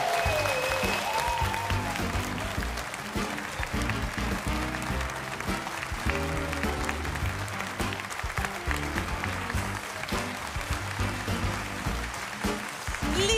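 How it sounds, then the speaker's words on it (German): A German talk show studio audience claps steadily and loudly throughout, a dense, sustained wash of applause with no break. "Und das Ganze machen wir, auch für Sie zu Hause, mit Ihrem Applaus."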